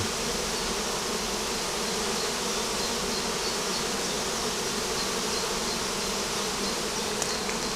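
At the hive, a calm swarm of honey bees keeps up a thick, continuous buzz that holds level and close throughout, with no speech.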